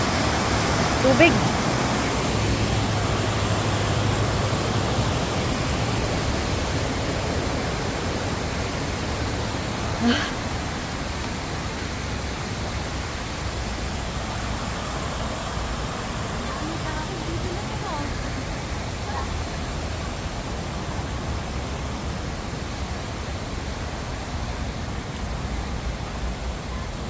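Steady broadband rush of a waterfall and mountain stream in the hills of Hong Kong, continuous and close, with one faint brief knock partway through.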